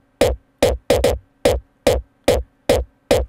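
Eight punchy hardstyle kick hits from a Drumazon drum machine VSTi, each a short attack sample with a sharp click and brief pitched tail, repeating at a steady rhythm with silence between hits, loud and close.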